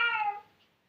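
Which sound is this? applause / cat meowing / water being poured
cat meowing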